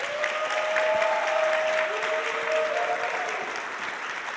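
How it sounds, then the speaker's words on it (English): A conference audience at a computer science education event applauds steadily for several seconds, a dense wash of clapping that tapers slightly toward the end, with faint tones beneath. "So if we could give them one more round of applause."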